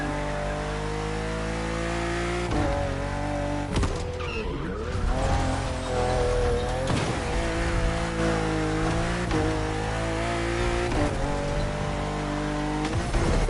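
A BMW CSL in the racing game The Crew Motorfest accelerating hard, its engine revving up through repeated gear changes with rising and falling pitch, loud and continuous, with some tire squeal.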